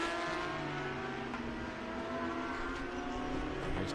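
A race car circulates at Barber Motorsports Park, a continuous engine drone heard at a moderate distance, steady and fairly faint, with no voices over it.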